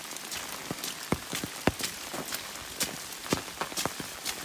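Rain falls on a hiker on the Appalachian Trail. Uneven drops and splashes tap close by over a steady wet hiss, mixed with footsteps, and no one talks.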